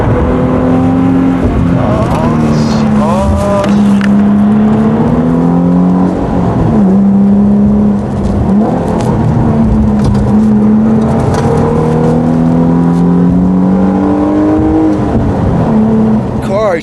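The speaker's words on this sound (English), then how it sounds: "And get to drive this 350Z." A Nissan 350Z sports car is driven hard around a track, its engine loud and close, rising and falling in pitch through repeated revs and shifts, with a voice speaking over it at times.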